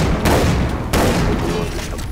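Shotgun blasts in Far Cry 3: Blood Dragon, two loud close booms about two-thirds of a second apart amid a thick, noisy wash of game combat.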